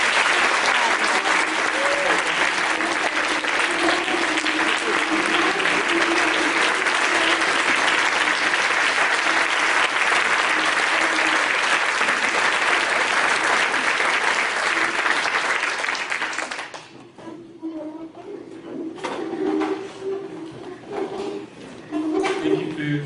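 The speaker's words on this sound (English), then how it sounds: "Let's have a final round of applause for all three." An audience at a prayer breakfast gives a long, loud burst of applause that stays dense and steady for about sixteen seconds, then thins into scattered claps and room murmur, with voices faintly audible underneath.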